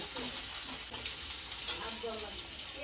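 Onion frying with cumin seeds in a small amount of oil, a steady close sizzle with faint stirring scrapes throughout.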